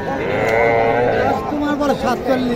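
A four-month-old Sahiwal-Gir cross calf lows at a busy livestock market in Dhamoirhat, Naogaon, its drawn-out harmonic calls rising over steady crowd chatter and nearby voices.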